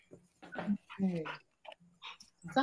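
A pet dog whimpering indoors, high whiny yelps and soft whines that rise and fall in short bursts between quiet gaps, fairly close but not loud, with people talking nearby.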